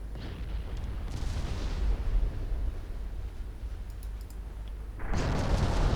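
Battleship secondary batteries of 7- and 8-inch guns fire in a naval engagement in a 1963 Norwegian campaign video game, a steady rumble of distant cannon fire rising into a louder burst of booms near the end.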